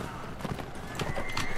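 A horse rears and neighs in Mount&Blade: Warband amid clip-clopping hooves, with a thin high whinny drifting over the thudding steps while someone talks over it.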